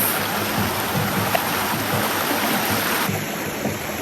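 Steady rushing of a flowing river stream, loud and close, a continuous broadband wash of water with no voices.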